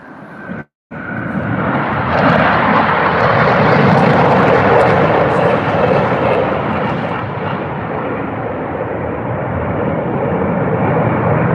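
Blue Angels jet aircraft roaring overhead as they fly a pitch up break, a loud, broad, sustained engine rush that swells and then holds steady after a brief cut at the start.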